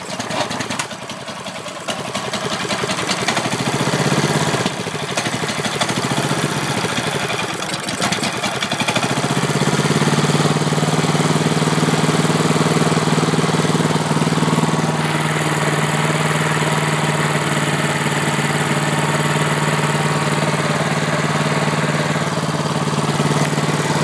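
A homemade UTV built from junk parts has its engine cranked over onto compression and catch, then settle into a steady, loud, rough idle with a vibrating drone that runs close and continuous to the end.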